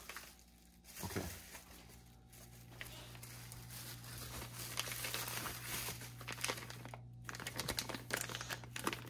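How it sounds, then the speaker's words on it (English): Plastic packaging is crinkled and handled up close, with steady rustling and crackling over a low background hum and no speech. "Crinkly plastic noises."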